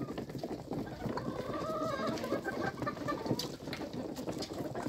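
Domestic turkeys raised on a small home farm give repeated clucking alarm calls at something unfamiliar. Several birds call close by in a continuous, busy flock chorus with no talking.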